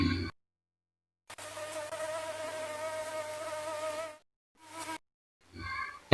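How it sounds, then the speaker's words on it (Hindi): A mosquito whines in a thin, high-pitched sustained buzz lasting a few seconds, close and clear against silence, followed by brief shorter bursts. "नेक्स्ट बढ़ते हैं मॉस्क्यूटो, मच्छर, तो ये क्या भिनभिनाता है"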